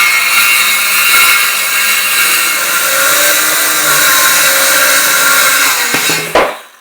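A saw cuts steadily through the end of an IKEA cabinet top, loud and close, with a constant buzzing whine for about six seconds, then a sharp clunk as the piece drops before the sound stops.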